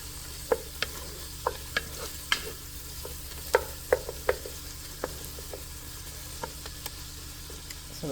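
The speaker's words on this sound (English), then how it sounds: "So while my onions were frying" Onions sizzle in a pan with a steady, soft hiss throughout, broken by occasional sharp clicks and taps of a stirring utensil against the pan.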